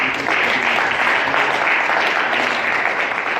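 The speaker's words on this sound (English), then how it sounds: "Can we give another big round of applause to both of our speakers?" Steady, sustained applause from a town hall audience at Community College of Philadelphia, a dense wash of clapping for the speakers that fills the whole moment without a break.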